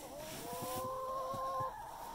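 Backyard chickens clucking softly in a yard, a short series of low, close clucks over steady outdoor background noise, with a faint high tone running through most of it.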